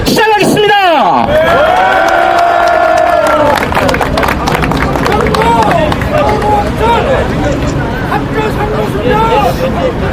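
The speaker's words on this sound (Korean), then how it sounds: "여러분의 큰 박수와 함성으로" Large outdoor crowd at a head-shaving protest rally in Gwanghwamun cheering and shouting loudly. Whoops and voices over dense crowd noise stay continuous and loud throughout, with people talking among the cheers.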